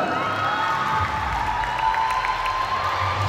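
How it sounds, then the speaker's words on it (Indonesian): An audience claps and cheers continuously at an English drama competition winner announcement, with scattered whoops rising over steady applause. "berikan tepuk tangan yang meriah kepada"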